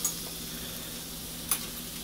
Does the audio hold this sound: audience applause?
no